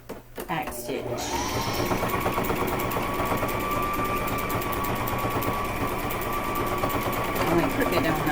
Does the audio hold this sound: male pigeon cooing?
no